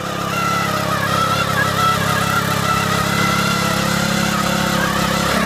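A Sraja power weeder's small engine runs steadily in a field, a loud, constant mid-pitched chugging drone with vibration and no talk.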